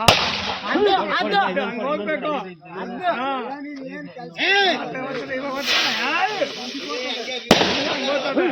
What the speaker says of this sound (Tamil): வனத்துறையினர் பட்டாசு வெடித்து யானையை விரட்ட முயன்றனர்